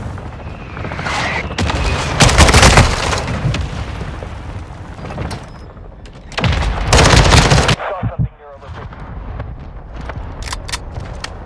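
Loud bursts of gunfire and heavy booms from a mortar strike in Call of Duty: Modern Warfare II, with dense volleys around two and seven seconds and scattered shots between them.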